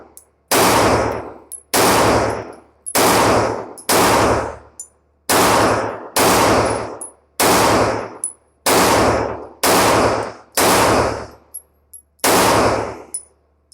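A SAR USA B6C 9mm compact pistol fires about ten loud, close, sharp shots at a slow, even pace, each report ringing briefly before the next, with faint metallic clinks between them.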